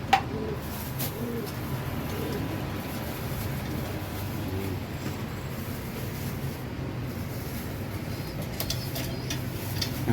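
Racing pigeons kept as breeders coo softly and repeatedly in their loft, with low throaty calls and a few wing rustles over a quiet background hum.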